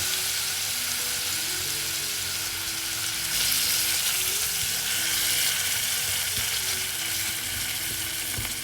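Satay sauce sizzles hard in a pan just after wine is added, a continuous close crackling hiss that grows a bit louder midway, with no talk.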